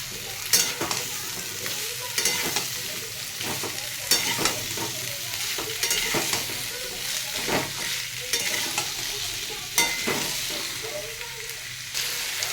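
Carrots and peas fry with softened onions in a pan as a spoon stirs and scrapes in regular strokes over a constant close sizzle.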